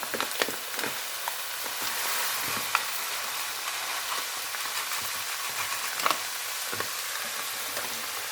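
Rice grains being stirred and toasted in a hot pan with seafood juices for seafood risotto, giving a steady close sizzle and frying crackle with scraping stir strokes throughout.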